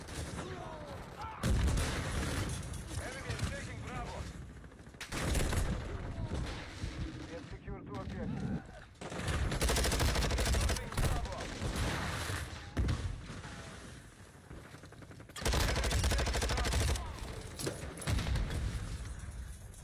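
Rapid gunfire from a first-person shooter video game, loud bursts of shots recurring in several clusters across the stretch, with a player talking excitedly over and between the volleys.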